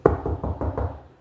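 A quick run of about five sharp knocks lands on a jail cell door at an even, rapid rhythm, close and moderately loud, with no talking.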